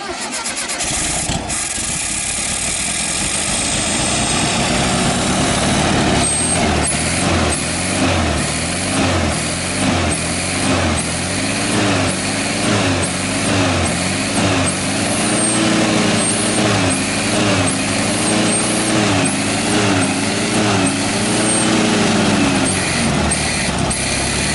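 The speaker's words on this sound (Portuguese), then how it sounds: "Dá para a gente tentar dar partida de novo." A 1970 Volkswagen Fusca with a variable venturi carburetor cranks over and catches, then runs roughly with an uneven, pulsing engine note that wavers in pitch, loud and close for a long stretch.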